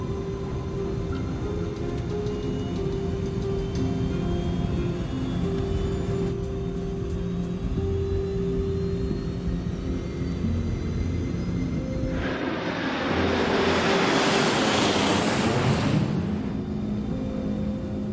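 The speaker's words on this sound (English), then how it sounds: "the MAX 8 lifts off the runway at Jakarta" A Boeing 737 MAX 8 airliner takes off from the runway at Jakarta, with a steady engine roar beneath a low hum that swells into a loud, broad rush toward the end.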